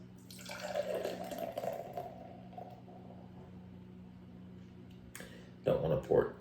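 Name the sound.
pouring Neon Beer Hug IPA into a glass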